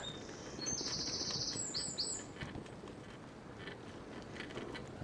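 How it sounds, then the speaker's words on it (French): Birds along a bike path flap their wings in a quick flurry, with a few high chirps and tweets over faint outdoor background noise. "je te laisse entendre les oiseaux"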